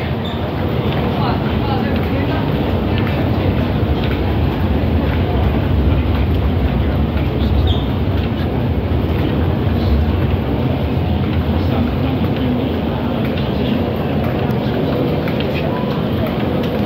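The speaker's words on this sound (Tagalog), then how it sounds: "So ayan yung train, paalis na kung natatanaw nyo." Passenger train departing a station in central Hong Kong in the early morning, a steady loud rumble of rolling wagons with faint rail clatter throughout, ambient station noise and talk mixed in.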